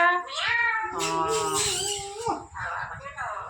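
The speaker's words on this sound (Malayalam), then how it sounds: "അതാണ് പൂച്ചക്കുട്ടി." A kitten gives several drawn-out, rising and falling meows, loud and close, while people talk nearby.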